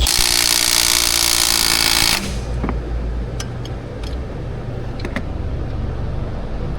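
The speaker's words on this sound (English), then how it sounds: "We're just gonna blurp this with the impact until we get 90 degrees out of that bolt." An impact wrench hammers a cam phaser bolt on a Ford 5.4 engine in one loud, dense burst lasting about two seconds, then stops abruptly and leaves quieter workshop noise with a few faint clicks.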